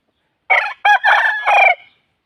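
A fighting rooster crows loudly and close by, one full multi-part cock-a-doodle-doo call against a silent background.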